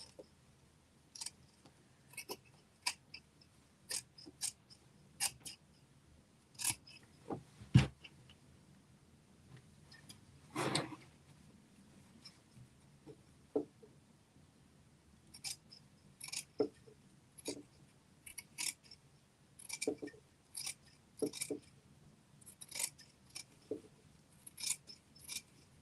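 Scissors snip through fabric while trimming a sewing seam allowance, quiet close-up crisp cuts coming in irregular bursts with short pauses, plus one louder thump partway through.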